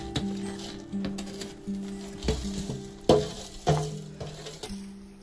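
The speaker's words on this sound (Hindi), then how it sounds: "सभी चीजों को अच्छी तरह से मिला दिया मैंने।" Gond, raisins and dry fruits are stirred together in a pan after the heat goes off. Steady scraping strokes and knocks against the pan repeat, with a faint background hum between them.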